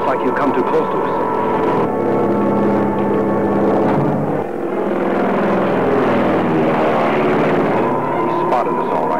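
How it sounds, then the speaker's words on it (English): A propeller airplane approaches overhead in an old adventure serial, its steady droning engine loud and continuous throughout, with voices talking over it. "That plane's headed this way."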